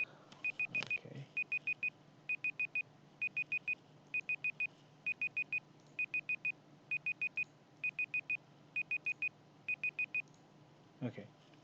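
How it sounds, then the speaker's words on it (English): Several meeting timers beeping together in a steady pattern: quick bursts of four bright, sharp beeps repeating about every 0.8 seconds for over ten seconds, with a faint thump or rustle at the start and end. "I just set a timer for this very meeting, and all of them went off at the same time"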